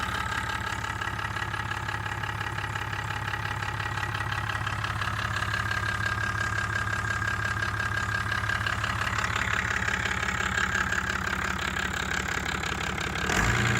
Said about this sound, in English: 440 horsepower and is started from the Yanmar control panel. As it begins running, the instruments show oil pressure building and temperature stabilizing